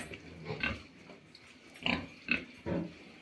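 Pigs of a three-breed hybrid being fattened in a farm pigsty, a series of short grunts and squeals in irregular bursts, nearby and moderately loud, with no talk.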